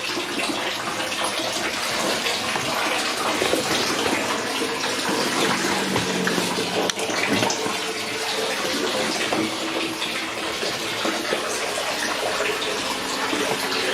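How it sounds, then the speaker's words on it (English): Water pours steadily into a Fluval Vincenza 260 aquarium during a rebuild, a continuous broadband gushing and splashing like a running tap that holds at an even, fairly loud level for the whole stretch. "Filling up and waiting for a leak somewhere."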